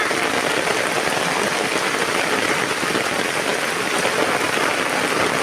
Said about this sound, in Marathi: आला रे पाऊस जोरात खतरनाक। पाऊस जोरात, हा जोरात पाऊस।